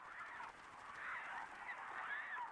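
Migratory geese honk in a flock, repeated nasal calls overlapping at moderate distance, fairly faint and continuous with no voices.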